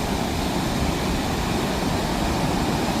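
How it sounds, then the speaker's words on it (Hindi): The Alakananda river rushes in a cold Himalayan valley near Mana village, its water a loud, steady roar of broadband noise that holds unbroken throughout with no voices over it. "पूरे अलकनंदा नदी जो है कल कल कल कल करती हुई"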